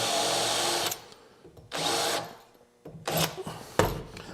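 A power drill countersinks screw holes in wood for an Adirondack rocking chair, with three loud whirring bursts separated by short pauses, close up.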